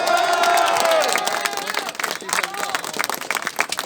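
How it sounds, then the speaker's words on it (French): Crowd at a street demonstration in Beauvais breaks into applause and cheering, clapping building under a fading shouted voice and continuing as a dense, lively patter of many hands. "applaudissez-le encore plus fort"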